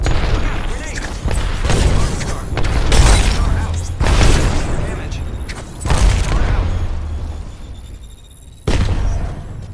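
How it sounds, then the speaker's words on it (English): Grenade blasts in a shooter game with Arc Star grenades: a string of loud, booming bursts at irregular intervals, mixed with gunfire-like crackle and in-game voices. "Look out, grenade!"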